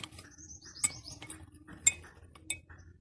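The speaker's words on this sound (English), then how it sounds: "Two spoons and stir it well." A spoon stirring baking soda into water, giving a few sparse metallic clinks against a glass, faint and close with quiet gaps between strikes and a soft chirp in the background.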